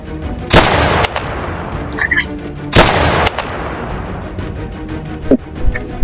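Gunfire in a comedic police-drama parody set on an island, with two loud, sharp blasts that each decay over a few seconds, plus fainter pops and scattered voices between them.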